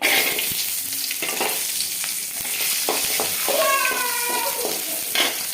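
Onions sizzle and fry steadily in a hot pan while being stirred for mint chutney, a continuous close hiss with brief scraping touches throughout.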